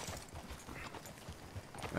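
Horse hooves clip-clopping in the Red Dead Online video game, a steady run of soft, muffled hoof knocks over a busy, noisy background of game ambience.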